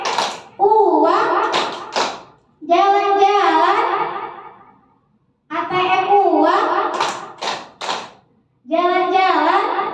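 Sharp, rhythmic hand claps from a clapping game in a classroom, set between bursts of children chanting in unison, with short silent pauses between the rounds.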